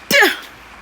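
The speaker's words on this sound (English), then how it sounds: "I gotta sneeze." A single short human sneeze, sharp and close, with a quick voiced burst that trails off within half a second.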